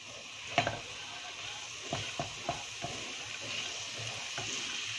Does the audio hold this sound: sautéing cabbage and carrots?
yes